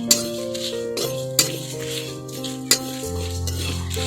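Whole spices stirred in a hot dry wok, with three sharp metallic clinks of a utensil striking the pan over faint scraping, set against background music.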